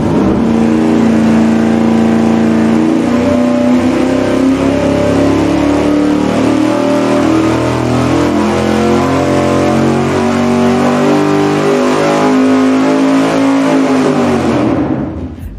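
An engine fitted with an open carburetor spacer roars on a dyno at a sustained, loud pull, its pitch climbing steadily through the run before dropping away abruptly at the end.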